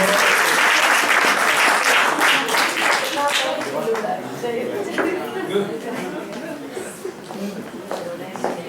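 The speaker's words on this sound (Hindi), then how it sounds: "आप सब उनका जोरदार से तालियों से उनका स्वागत कीजिए।" Enthusiastic audience applause greets a co-editor of a quarterly magazine at a Hindi poetry evening in Houston, dense clapping at the start that gradually thins and softens, with some chatter and a few laughs mixed in.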